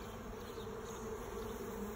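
Honeybees buzz steadily at an open hive while a box is added and cross comb is fixed, a dense, continuous drone of many insects up close with no talk.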